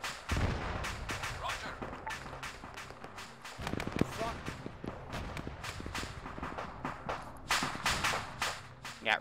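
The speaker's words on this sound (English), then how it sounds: "Got rounds cooking off." Ammunition cooks off in the Arma video game as a dense, irregular burst of cracks and pops, rattling on almost continuously with voices chattering over the top.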